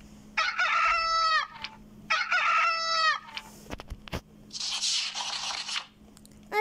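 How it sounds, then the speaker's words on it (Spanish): A rooster crows twice in clear, loud bursts close by, then a scratchy rustle and a broadband noisy sound follow. "otro gallo llamado Dali empezó a cantar"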